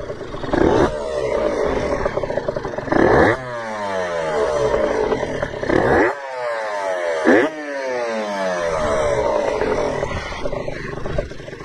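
A Honda NSR80 two-stroke motorcycle with a PWK28 carburetor idles close by, its engine revved in several rising and falling blips over a steady loud idle.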